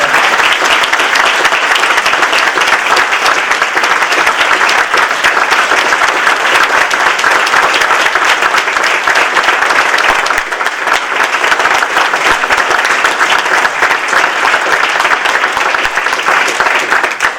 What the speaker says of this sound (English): Every time he gets that round of applause